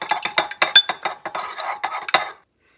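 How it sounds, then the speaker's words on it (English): A spoon taps and scrapes quickly against the inside of a mug while an egg is mixed into mug cake batter, with rapid clinking strokes for about two seconds before it stops. "Mix that in."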